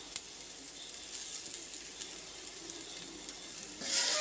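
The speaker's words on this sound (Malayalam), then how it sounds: "നന്നായിട്ട് ഒന്നുകൂടെ ഒന്ന് ഇളക്കി കൊടുക്കണം" Egg biryani masala being stirred in a pot, a faint steady sizzle with light scraping and a few small ticks from the spoon, growing louder at the end.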